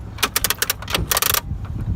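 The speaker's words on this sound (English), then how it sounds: "All the coin mechs work." Coin mechanisms of a Vendstar 3000 vending machine rattle and clatter in quick bursts of sharp metallic clicks and tumbling coins, fairly loud and close, with a brief pause midway and a fainter click near the end.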